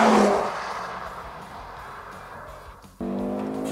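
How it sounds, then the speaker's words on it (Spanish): A 2023 Audi RS Q3 with a 400 hp engine accelerates hard, a loud close engine drone pulling steadily and then surging abruptly as it rises near the end. "Pero cómo acelera y también qué bien frena."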